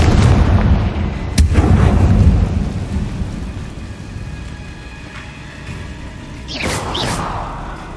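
A Confringo spell explosion in Hogwarts Legacy on Xbox One: a sharp crack followed by a heavy, thunder-like rumble that fades, then a second bright whooshing burst near the end.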